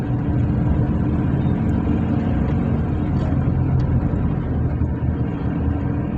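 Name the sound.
pickup truck engine running, misfiring on trial drive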